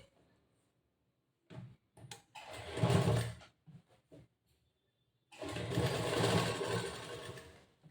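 A sewing machine runs in two short bursts, with faint handling clicks between them, while a big stitch goes over a folded seam on a boat-neck blouse.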